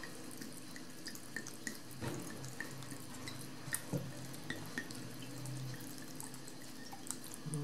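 Spring water from the mountains poured over freshly picked wild violet flowers for a syrup, a steady soft trickle with small drips and splashes throughout, fairly quiet and close, no talking.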